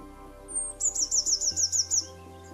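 A small British songbird gives a short trilling song: a quick run of about eight rapid, evenly spaced high whistled notes, clear and fairly close, over a faint steady hum.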